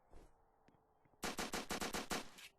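Rapid gunfire in the video game Apocalypse Rising: after a quiet moment with faint movement, a sharp burst of about nine closely spaced shots rings out loud and near in quick succession.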